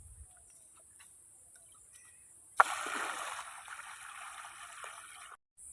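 Water poured out of a bucket outdoors while building a fishing trap, a steady rushing splash that starts abruptly midway and runs for about three seconds before cutting off, after a quiet stretch with faint birdsong.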